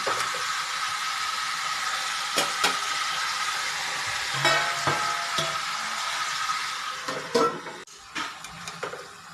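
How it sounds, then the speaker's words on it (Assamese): Drumstick flowers fry in a pan while being stirred, giving a steady sizzle broken by several sharp scraping clicks of the spatula against the pan, close and clear with no talking. "মই ভাজিখিনি এবাৰ এনেকৈ লৰাই দিলোঁ।"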